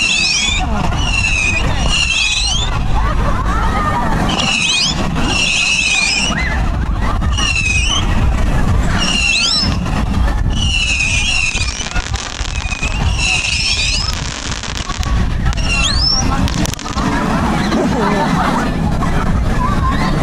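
A 300-shot Screaming Vampires firework cake goes off at a public display in Cuckney, sending a steady loud barrage of crackling bursts and rising whistles over about twenty seconds, with crowd chatter and laughter underneath.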